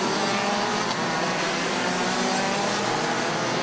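The 111 race car of the SARMC Idube DD2 Masters round at full throttle down an intermediate straight, a loud, steady, dense engine roar held without break and with no voices.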